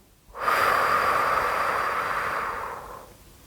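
One long, slow breath during a calm breathing exercise: a soft airy rush starts abruptly, holds steady for about two and a half seconds, then fades out. It is close and alone, with no talking.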